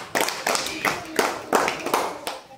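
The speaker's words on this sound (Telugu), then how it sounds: "Very good. క్లాప్స్ మా." A group of schoolchildren in a primary class applauds a classmate, about six quick bursts of ragged clapping spaced roughly evenly, close and moderately loud, with faint voices mixed in.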